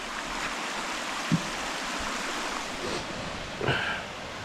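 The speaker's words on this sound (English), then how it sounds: "Here we're at Long Creek Falls." Long Creek Falls in the mountains along the Benton MacKaye Trail. The waterfall gives a steady, broad rush at moderate distance with no break, and two faint brief knocks sit on top of the roar.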